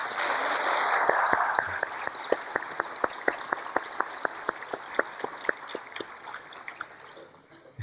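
A lecture audience claps, starting as a dense wash of applause that thins into scattered, sharp individual claps before fading out.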